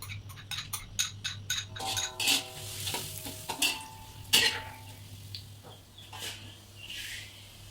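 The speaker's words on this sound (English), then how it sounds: "she's going to fry her finely chopped garlic until it's nice and toasted golden brown" Finely chopped garlic frying in a pan until golden brown for a vegan dumpling soup, with a soft continuous sizzle under frequent close metallic stirring clinks and scrapes of a utensil against the pan.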